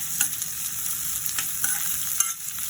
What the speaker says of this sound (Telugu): కట్ చేసుకున్న పచ్చిమిరపకాయలు కూడా వేసుకొని బాగా కలపాలి.